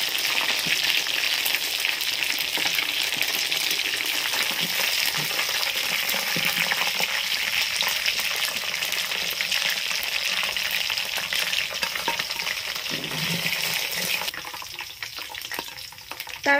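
Chicken pieces fry in hot oil for crispy fried chicken with a loud, dense, continuous sizzle. The crackle holds steady at close range, then thins slightly near the end as pieces are lifted out, with no voices.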